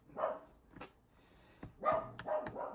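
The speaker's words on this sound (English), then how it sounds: "my Nala's just decided to bark" A pet dog barks indoors in a handful of short, sharp barks spread unevenly across a few seconds, fairly close but moderate in volume, with no talking during the barking.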